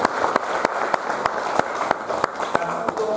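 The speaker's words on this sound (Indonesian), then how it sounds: "Kita beri tepuk tangan semua." Audience clapping at a staff capacity-building event for a university mathematics and science faculty, heard as a fairly thin, uneven patter with sharp individual claps standing out across a few seconds.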